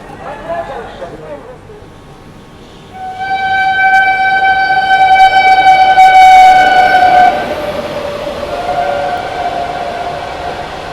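A Goa Rajdhani train departs Mathura station after an unscheduled halt, its horn sounding a long, loud blast over the rising rumble of moving carriages, with a voice speaking throughout.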